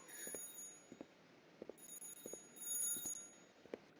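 A telephone rings in the horror video game The Groundskeeper, with bursts of bright, shrill bell-like ringing that come and go over a quiet background of faint thuds and footsteps.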